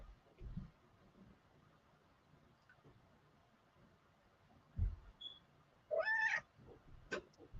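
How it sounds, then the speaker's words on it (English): House cat sitting on a person's lap meows once, a short rising call near the end, faint and close against a quiet room with a few soft bumps. "Did you hear my cat?"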